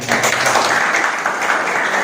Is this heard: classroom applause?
yes